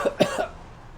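A voice imitates a character coughing up blood, with three short, wet, throaty coughs close together in the first half-second before trailing off into quiet.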